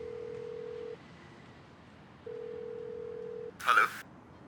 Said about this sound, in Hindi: जल्दी से फोन उठाओ